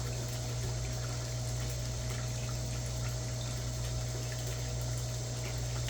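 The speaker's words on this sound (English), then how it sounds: "I'm just going to add just a little bit of liquid to it" Liquid pours steadily into a worm bin, a constant close gushing and trickling wash that holds at an even level throughout, with a low steady hum underneath.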